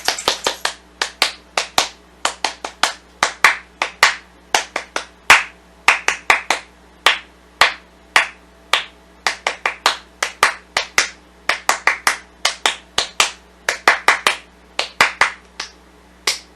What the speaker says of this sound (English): this was one of our camp claps